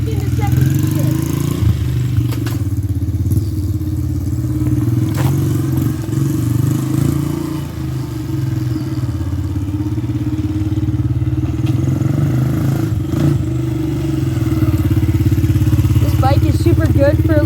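A dirt bike engine drones steadily throughout a ride, its tone rising and dropping slightly as gears are shifted up, loud and close, with wind and some clatter.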